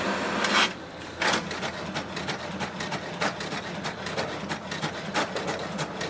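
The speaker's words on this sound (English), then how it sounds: "just wait for the printer to do the copy" An HP DeskJet 2655 inkjet printer making a copy, heard up close: rhythmic mechanical whirring with repeated clicks, scrapes and sharp paper-feed bursts, running steadily without any talking.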